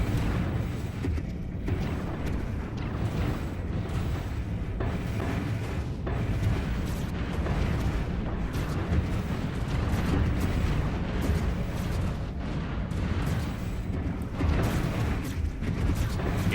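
Space fleet battle in the strategy game Stellaris: a dense, continuous roar of weapons fire and explosions rumbling without pause, loud and heavy in the low end throughout.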